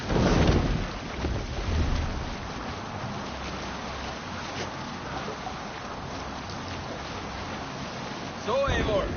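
A sailing boat moves across open water in Assassin's Creed Valhalla, steady rushing wind and water wash with louder gusts at the start and end, a faint voice briefly audible.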